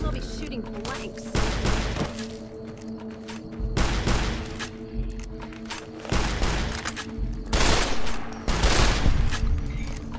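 Bursts of rapid gunfire in Fallout New Vegas, several loud volleys spaced through the stretch with game ambience and a low hum between them.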